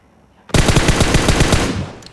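A burst of rapid automatic gunfire in a shooter video game, used to finish off a bot, starts abruptly and stays loud and close with evenly spaced shots for about a second and a half before tailing off.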